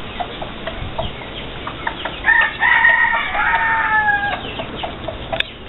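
A pet rooster crowing: one drawn-out, strained cock-a-doodle-doo rises in the middle, loud and close, framed by softer clucks and scattered knocks before and after.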